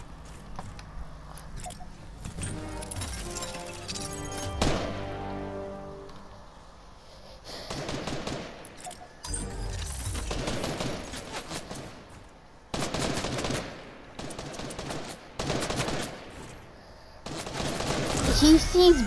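Bursts of gunfire in Fortnite, irregular clusters of rapid shots separated by quieter gaps with scattered softer thuds, growing denser toward the end; no speech.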